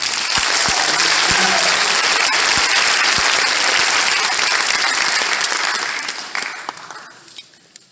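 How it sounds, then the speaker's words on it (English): Loud, dense audience applause greets a jazz guest soloist, steady for several seconds before thinning and fading out toward the end. "So give him a big round of applause."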